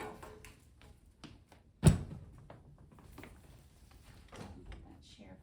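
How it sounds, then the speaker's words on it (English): A wheelchair armrest is pulled off with one sharp, loud clunk, surrounded by quieter handling rattles and faint talking nearby. "Let me get this armrest off."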